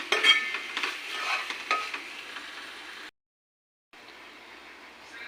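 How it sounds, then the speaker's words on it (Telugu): Onions and masala fry and get stirred in a pan for Andhra-style fish curry, a steady close sizzle with scraping stirs that stops briefly before resuming more quietly, with no voices. "ఉల్లిపాయలు మసాలా బాగా కలిసేలా వేపుకోవాలి"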